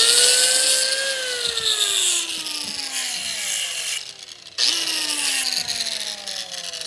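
Sanding a wooden wedge fitted into an axe handle with a power tool: a loud whining motor tone that drops in pitch under load, cuts out briefly, then restarts and bogs down again.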